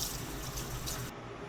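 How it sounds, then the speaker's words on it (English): Tap water runs steadily into a sink as hands are washed, a continuous hissing gush that cuts off abruptly near the end, with no talking. "So let me wash my hands off"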